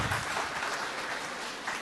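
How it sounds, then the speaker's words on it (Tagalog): A church congregation claps loudly during an evening homily, producing a dense, steady wash of applause that continues evenly throughout. "Pumalakpak ng malakas."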